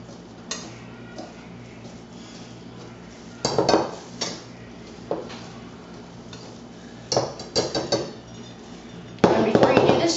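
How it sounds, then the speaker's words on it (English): Carrot cake batter being whisked in a bowl, heard as bursts of rapid metallic clinking and scraping against the bowl separated by quieter gaps, close by. "So just whisk this together."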